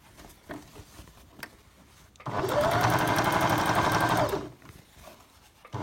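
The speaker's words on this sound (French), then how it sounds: "je pique ainsi en suivant bien mon repère sur la machine" Domestic sewing machine stitching a straight seam on a fabric drawstring bag: a steady, close motor whir runs for about two seconds alone, between quieter handling noises.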